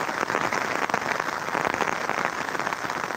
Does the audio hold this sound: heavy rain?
yes